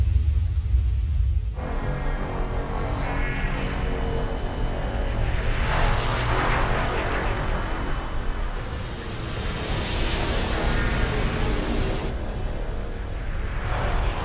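A spacecraft touches down in a science-fiction film scene, heard as a loud, continuous roaring engine rumble with a deep low-end drone and rising hiss that swells and shifts across the landing, with no speech over it.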